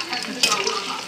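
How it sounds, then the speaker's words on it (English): Tortilla chips frying in hot grease in a pot, a dense, loud, close sizzle and bubbling with a brief sharper crackle partway through. "Y'all see them chips frying?"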